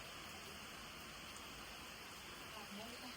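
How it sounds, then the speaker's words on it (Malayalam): Light rain falling steadily as a soft, even hiss, close and continuous. "മഴ ചെറിയ മഴയൊക്കെ പെയ്യുന്നുണ്ട് കേട്ടോ"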